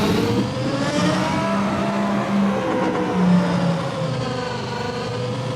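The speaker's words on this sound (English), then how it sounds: "let's just try to warm the tires up nice, get the feel of the car." A car engine hums loudly and steadily at moderate revs during a warm-up lap, with gentle shifts in pitch as it drives along and no talking.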